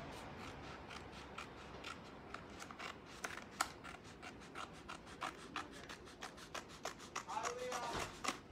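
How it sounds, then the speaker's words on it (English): Scissors snip through a paper furniture transfer, cutting it down the center with a run of short, close, crisp rasping cuts and faint rustling paper, rhythmic and fairly quiet. "So I just cut my little label off right here."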